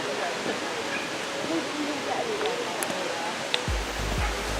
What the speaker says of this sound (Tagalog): Enjoy your waterfall.